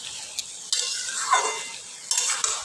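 Taro leaves with a hilsa fish head stirred in a pan, soft sizzling under a few scraping stirs and light utensil contact, close and moderately quiet, with no talking.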